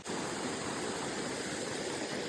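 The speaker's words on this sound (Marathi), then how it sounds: "हे बघा धबधबा छोटासा आहे" A small waterfall at Barki roars as a steady, dense rush of falling water, close and loud throughout with no voices.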